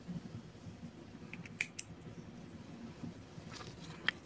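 Scissors snip crochet yarn while finishing a baby shoe, two quick quiet cuts close together followed by another faint snip, in an otherwise hushed room.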